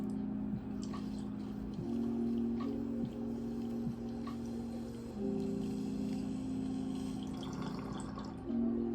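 Water bubbles steadily inside a smoking bong, a close, continuous gurgling with hollow pitched tones that shift as the draw changes, repeating in several pulls.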